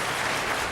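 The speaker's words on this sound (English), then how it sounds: "I'd ask you to hold your applause, please." A debate audience applauds during a 1991 governor's race, giving a short burst of dense, steady clapping that fills the room at an even, fairly loud level.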